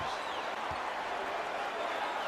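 Basketball arena crowd cheering and applauding, a dense, steady wash of distant clapping and crowd roar throughout with no clear individual voices.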